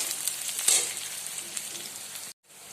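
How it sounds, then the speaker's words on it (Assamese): Onions sizzle and crackle steadily in a hot pan with oil, a close, continuous frying hiss with small pops, stopping abruptly near the end. "পিঁয়াজখিনি ভাজা হৈ ল'ম"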